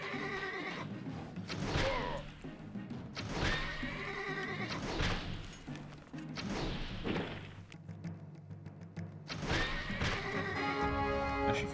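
Horses in the Caesar III video game repeatedly neigh and whinny, several loud close calls overlapping with thuds and clip-clop of hooves, a battle din running underneath throughout.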